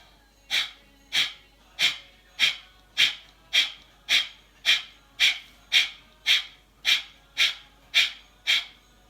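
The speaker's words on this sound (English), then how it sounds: "I will explain to you how to do this breathing" Kapalabhati breath-of-fire yoga breathing: a long run of about fourteen sharp, forceful nasal exhalations at a steady rhythm, each a short rushing puff close to the mic, separated by brief quiet gaps.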